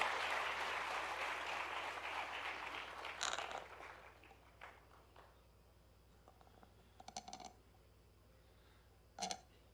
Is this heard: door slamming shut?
no